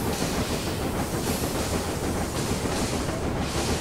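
Train rolling along the track in the Railway Empire 2 game, a steady dense rumble and rush of wheels with no pauses, loud and continuous throughout.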